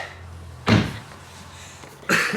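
Two sharp, nearby bursts of a BMW F80 M3 race car door opening, the first clunk loud and brief, the second a fainter rustling thud about a second and a half later, over quiet hum.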